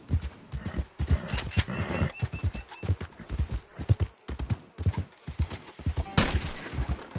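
Horse hooves gallop in Red Dead Redemption 2, a quick rhythmic clip-clop at close range with brief whinnies and other game sounds mixed in.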